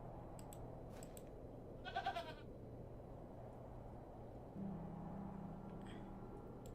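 A goat bleats once in The Excavation of Hob's Barrow, a short wavering cry over a quiet, steady background hum, with light clicks scattered around it.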